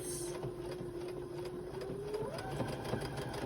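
A serger runs steadily, stitching a seam closed at a 3/8 allowance in a cozy sewing setup, its motor whir continuous and close with a rising pitch near the end.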